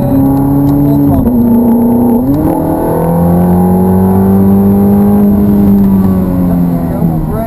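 Ferrari F430 on the Hallett Motor Racing Circuit accelerating at full throttle, a loud in-car engine roar rising steadily in pitch after a brief dip around a gear change, sustained throughout.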